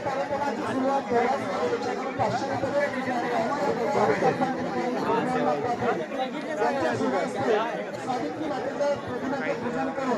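Dense crowd chatter at a village temple fair for the local deity, many overlapping voices murmuring steadily at close range with no single voice standing out.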